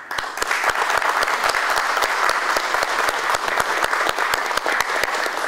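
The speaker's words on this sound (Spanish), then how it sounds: "les quiero pedir despedirlo ahorita con un gran aplauso" Applause from a security committee meeting audience sending off a departing official, with distinct sharp claps scattered through a steady mass of clapping, loud and sustained throughout.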